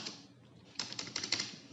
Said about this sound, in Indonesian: Untuk menyimpannya tekan Ctrl X, kemudian ketik Y, kemudian enter.